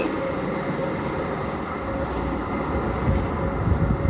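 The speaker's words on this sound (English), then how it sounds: "I think the train that just left is for Woolwich Arsenal via London City Airport" DLR train pulling away from Bank station underground, a steady low rumble and whine of the departing train echoing in the platform space.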